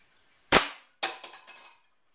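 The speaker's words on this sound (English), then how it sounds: "So we're going to load one into the breech. And this is .177 caliber." Two sharp pops from a Crosman 1377c .177 caliber air pistol fired at a target, the first about half a second in and the second a half-second later with a brief rattling tail, loud and close with no talk.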